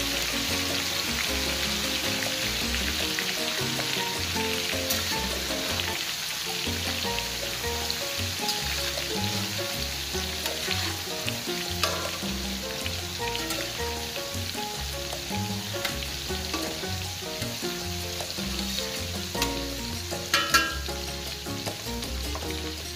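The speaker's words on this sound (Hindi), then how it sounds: "दस से 15 मिनट हल्की आंच पर फ्राई करेंगे" Chicken leg pieces fry in oil on a low flame, a steady close hiss and crackle that runs without a break, with a few sharper pops near the end and no talking.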